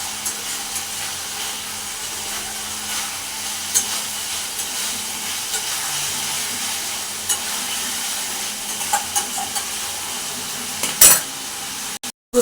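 Meat being stir-fried (kosha) in oil in a pan, a soft continuous sizzle with occasional scrapes and light clinks of a spoon against the pot, ending in a couple of sharper knocks.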